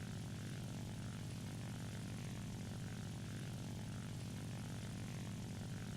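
A steady, droning La-5FN propeller aircraft engine at altitude in War Thunder, a constant buzzing hum that stays continuous and even throughout, with no voices.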